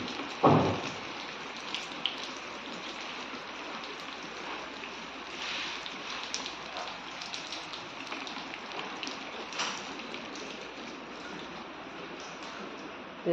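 Steady patter of rain falling outdoors, a soft continuous hiss with a few sharper drips and a brief knock near the start.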